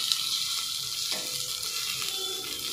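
Chopped onions tipped into hot oil after green chillies for vegetable masala Maggi, giving a steady close sizzle and crackle of frying that holds level throughout with no talking.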